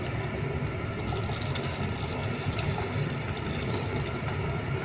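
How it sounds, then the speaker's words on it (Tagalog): Water pours steadily into a pot of Perrik chicken soup, a continuous loud gushing splash that lasts throughout without pause or talking. "So mag-add tayo ng tubig."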